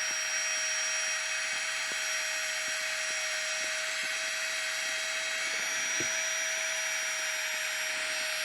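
GIGA PUMP 2.0 electric portable air pump running, a steady high-pitched whine and airy hiss with a constant tone, close and continuous, accompanied by faint small clicks.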